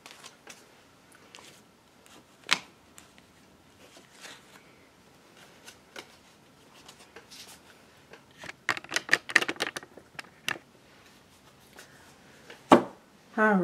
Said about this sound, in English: let me put these cards so that they're not in a big pile here